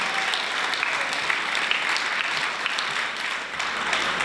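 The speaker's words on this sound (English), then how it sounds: "give her a round of applause" A large audience at a poetry festival in Jamaica applauds a poet, giving steady, dense clapping that fills the whole stretch with some faint cheering mixed in.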